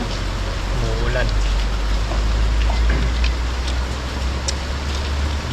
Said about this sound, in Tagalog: Dahil Sama ng panahon. umuulan.